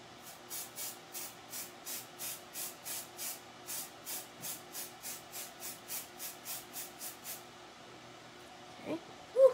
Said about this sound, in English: Now I'll do my fake spraying.